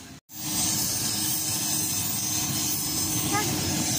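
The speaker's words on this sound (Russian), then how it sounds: "Все, будем сейчас сидеть в самолете." Steady, loud engine roar fills a passenger airplane cabin before a flight to Aktobe, a continuous broadband drone that holds for several seconds after a brief dropout at the start.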